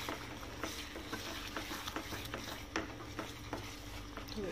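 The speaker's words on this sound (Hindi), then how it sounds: "एक बार इसे हम मिक्स कर देते हैं" Sarson ka saag is stirred in a pan over low heat, a quiet, even sizzle with soft repeated scraping strokes, close and alone.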